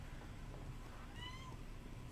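A cat meows briefly twice amid the background noise of a TF2 Watergate match, a short rising-and-falling cry that is moderately close but not loud.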